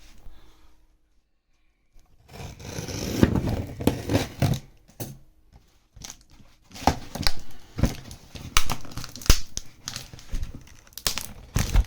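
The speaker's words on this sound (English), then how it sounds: "So let's cut into this." Cutting into and unwrapping a tightly packed parcel box on a desk: a quiet start, then close, continuous crinkling, rustling and tearing of packaging with sharp crackles and irregular bursts, no speech.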